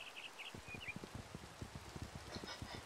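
Steady rain patter in Minecraft with frequent soft low thuds of drops landing, plus a few faint high chirps near the start and end.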